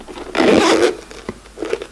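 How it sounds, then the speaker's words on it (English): A single quick zipper pull on a vape carrying case, close and crisp, rasping for about half a second, followed by a couple of faint shorter zips. "The zipper is nice and smooth."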